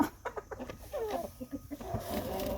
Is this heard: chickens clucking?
yes